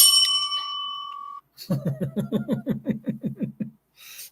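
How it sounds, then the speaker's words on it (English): A bell sound effect rings out first: a bright, sustained ding with a high ringing tone. After a short gap comes a rapid, evenly spaced run of about a dozen lower chirping pulses, then a brief final burst. "It's a bell with a smile face on it."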